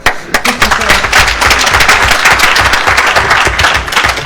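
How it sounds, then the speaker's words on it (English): An audience at a debate on pesticides in Hawaii gives a loud, dense round of applause, many hands clapping close and steady throughout. "Another round of applause for you."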